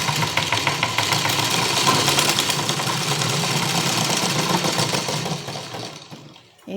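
A treadle sewing machine, its wheel turned by hand and then pedalled, runs in a fast even mechanical clatter close by, then slows and stops near the end.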